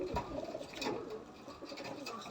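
High-flying pigeons coo softly in a loft in low, repeated murmurs, close by, with faint background noise and no clear talking.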